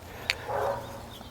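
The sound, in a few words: dogs barking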